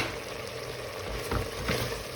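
Steady sizzling of chopped green peppers frying in a hot pan, with a couple of louder crackles as the food is stirred; no voices.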